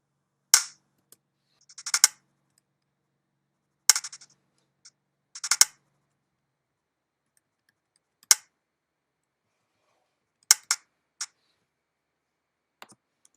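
A film slate clapperboard snaps shut several times during a scene-syncing take, giving sharp, isolated claps spaced a second or more apart, some doubled with quick small rattles, against near silence.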